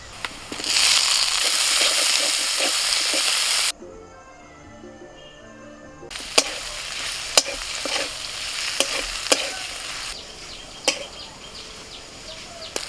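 Chopped tomatoes sizzle loudly in a hot pan over ginger and garlic, with a brief quieter pause, then steady frying resumes under repeated sharp scrapes and clicks of a spoon stirring against the pan.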